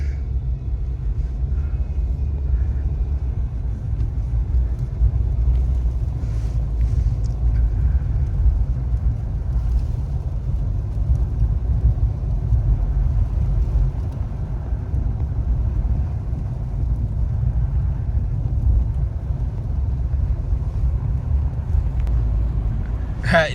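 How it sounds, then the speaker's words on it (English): A two-wheel drive car travels on the I-95 through a winter snowstorm, a constant low engine and road rumble with tire hiss throughout, steady and close. "In my two-wheel drive in this winter storm,"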